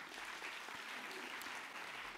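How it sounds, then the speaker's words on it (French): An audience claps for Bruno Macquart, president of Universcience, at a round-table event, giving a steady, fairly quiet wash of applause that continues throughout. "président d'Universcience, qu'on peut applaudir également"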